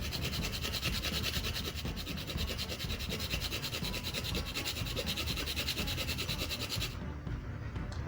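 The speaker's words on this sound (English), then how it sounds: "we just grate the fresh nutmeg into the pot" Fresh nutmeg is rubbed against a small grater over a pot, a rapid, continuous close-up scraping rasp that stops abruptly near the end.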